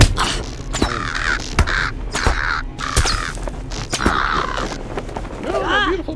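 Birds in the online game Lord of the Rings Online give repeated harsh, crow-like caws in uneven bursts, loud and close, with sharp clicks and game effects between calls.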